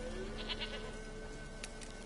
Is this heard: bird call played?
no